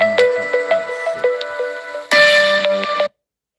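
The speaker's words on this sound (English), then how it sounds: "I gotta answer that phone for my man." Repeated tonal chimes of a phone ringtone sound in an even rhythmic pattern, then a louder, brighter burst of melody takes over before cutting off abruptly into silence.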